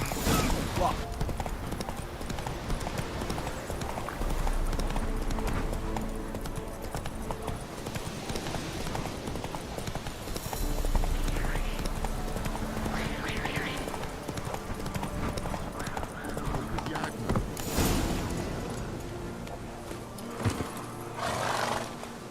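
Roach the horse's hooves clip-clop in a Witcher 3 game scene, a steady rhythmic trot with some snorting and whinnying, under a busy mix of game sound and talking voices.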